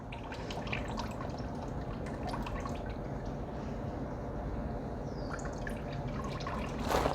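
Water flows from a suction pump line into a tank, a steady splashing trickle with scattered drips that continues evenly throughout.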